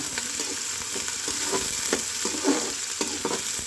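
Ginger, chillies and onion sizzle in a pan for sour-style potatoes while a utensil stirs with repeated scraping taps at an uneven rhythm, close and moderately loud, without speech.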